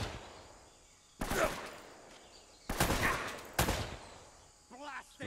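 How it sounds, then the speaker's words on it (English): Pistol shots ring out in the video game Uncharted: Drake's Fortune Remastered, three loud cracks spaced a second or two apart over a quiet backdrop, followed by a faint ringing tail. "Right, back to the trusty old pistol."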